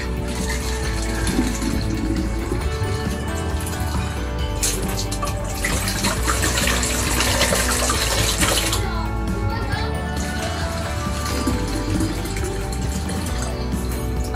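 Bottled water being poured to fill a pot for herbal tea, a continuous close splashing and gurgling stream with a rising, filling character, heard alone without talk.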